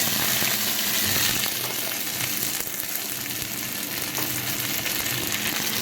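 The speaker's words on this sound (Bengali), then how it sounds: "এবার তেলের মধ্যে পেঁয়াজ দিয়ে দিচ্ছি।" Onions hit hot oil and fry with a loud, dense, continuous sizzle that fills the whole stretch, with no talking over it.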